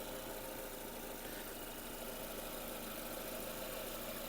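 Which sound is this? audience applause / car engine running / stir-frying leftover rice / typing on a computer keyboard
car engine running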